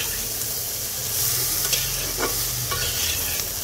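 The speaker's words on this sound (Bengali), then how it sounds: "চলো আগে 1-2 মিনিট এটাকে একটু হালকা ভেজে নেই।" Prawn claws and potatoes frying lightly in a pan give a steady, dense sizzle throughout, with a few stirring scrapes near the end and no voices.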